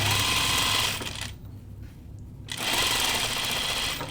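A sewing machine runs steadily while stitching a quarter-inch seam in gauze, a loud continuous mechanical whir that drops away briefly in the middle before resuming at full speed.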